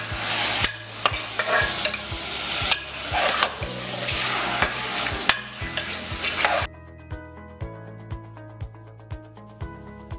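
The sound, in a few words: sauteing mutton with cooked onion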